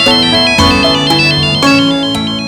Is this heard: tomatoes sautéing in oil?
no